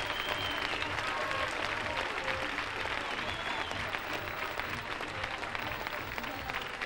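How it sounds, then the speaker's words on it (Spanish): A crowd at the Manilva fair gives a long, steady round of applause for a municipal dance school performance. The clapping is dense and continuous, heard from a slight distance and somewhat muffled, with faint background murmur and no clear speech. "Un fuerte aplauso porque se lo merece"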